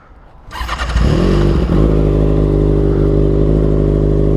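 A sport motorcycle fitted with an aftermarket exhaust cranks and fires up, then settles into a loud, steady, throaty idle close by, with no talking.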